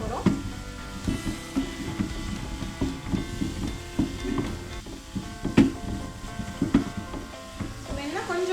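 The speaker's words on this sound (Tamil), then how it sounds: "பொட்டேட்டோ பொன்னிறமா வர வரைக்கும் நம்ம இந்த பட்டர் அண்ட் பொட்டேட்டோவை வறுத்துட்டே இருக்க போகிறோம்." Baby potatoes fry in butter with a soft sizzle as a spoon stirs and knocks against the pan in irregular strokes, close by, over a faint tonal background.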